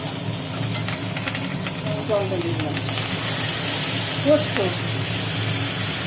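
Green chilies drop into hot oil with nigella seeds in a home kitchen, a steady close hiss and sizzle that runs continuously and grows slightly louder partway through.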